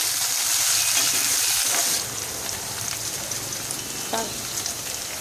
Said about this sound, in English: So you wait until the onions are caramelized and they're brown in color, golden brown. And this all has been cooked on a high flame.